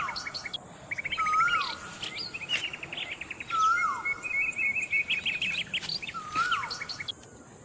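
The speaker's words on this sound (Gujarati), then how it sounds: "કુદરતી આ પક્ષીઓનો અવાજ આવે એ જ." Several birds chirp and call around a farm field in India: repeated short tweets, trills and rising-falling whistles that come in bursts over a steady rural background, fairly close and clear.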